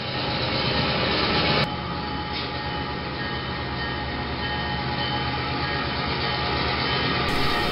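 Steady rumble of diesel locomotives, including a U-33C, rolling out of an engine yard, with constant low engine drone and broadband rail noise, no voices.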